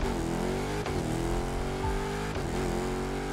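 Dodge Charger Hellcat Widebody Redeye with a stock 770 hp engine accelerating hard in The Crew Motorfest, a loud, steady engine roar that climbs in pitch with two brief gear-shift dips, with no talk over it.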